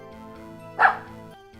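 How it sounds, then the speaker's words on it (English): A pet dog gives a single bark, loud but slightly distant, over a steady background of video game music. "My dog was barking."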